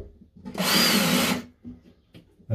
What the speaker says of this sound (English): put a screw just into the timber a little bit